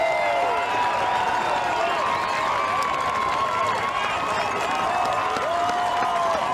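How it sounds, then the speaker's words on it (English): A baseball stadium crowd roars and cheers continuously with scattered applause after a strikeout curveball in an exciting game, a dense, loud wash of voices and whistles with no commentary over it. "Listen to the crowd."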